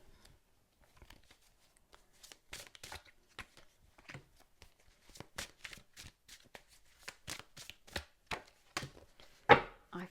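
Tarot cards are handled, shuffled and laid out one after another, a run of crisp close flicks and slaps that grows denser and louder toward the end, with no one talking.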